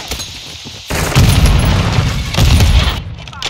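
A grenade explodes in the Call of Duty Modern Warfare 2 match on the Mercado Las Almas map. Loud, dense booms and rattling gunfire go on almost without a break, with a short quieter gap near the start.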